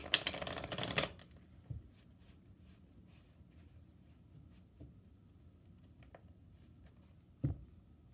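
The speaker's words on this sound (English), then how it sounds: "let's get a couple of chakra wisdom cards here" A deck of chakra wisdom cards riffles in a short, dense burst at the start, then a few soft isolated card taps and slides follow in a quiet room.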